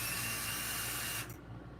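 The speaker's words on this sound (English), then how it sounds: "taking the rotor off the old one, Ice Tech. And yes, I'm going to use a drill." A power drill spins to loosen the bolts on an old Ice Tech brake rotor on a Stumpjumper mountain bike, giving a close, steady whir that cuts off abruptly after about a second.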